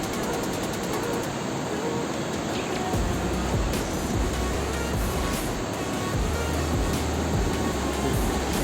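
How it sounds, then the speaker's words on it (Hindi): A strong mountain river near Badrinath, close to the Dhari Devi temple, rushes with a loud, dense, continuous roar of fast water that stays at steady volume throughout, with no talking over it. "गजब प्रेशर है पानी के फ्लो में।"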